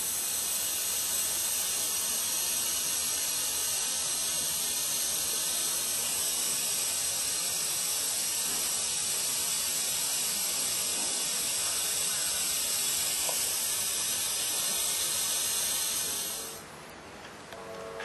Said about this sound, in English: aiding ourselves with a vacuum system where we're going to try to transfer the brake fluid from the master cylinder down to the caliper